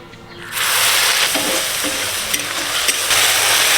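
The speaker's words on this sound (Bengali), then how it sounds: "প্রথমে পেঁয়াজ আদা রসুন বাটাটা দিয়ে দিচ্ছি" Onion, ginger and garlic paste drops into a hot pan and bursts into a loud, close sizzle, steady and bright, with occasional stirring scrapes over the continuous frying hiss.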